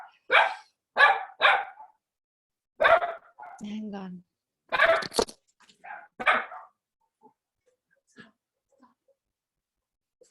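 Dogs bark in a handful of quick, fairly close bursts at a beach setting, with a person speaking briefly between them.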